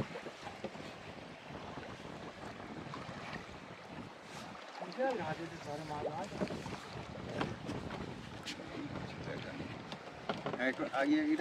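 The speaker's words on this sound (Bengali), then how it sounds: "আর হঠাৎ করে একটু হাওয়া উঠেছে" A sudden gust of wind sweeps over the Garal river around a small fishing boat, with rushing wind buffets and lapping waves beside the hull while people talk throughout.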